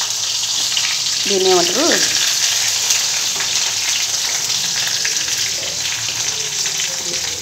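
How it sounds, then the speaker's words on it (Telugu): Green chilies and spring onion leaves sizzle and crackle in hot oil, a loud, steady frying hiss close by, with a few brief bits of a woman's speech over it. "నూనె అయితే హీట్ అయిందండి. మిర్చి స్ప్రింగ్ లీఫ్ వేసుకుందాం."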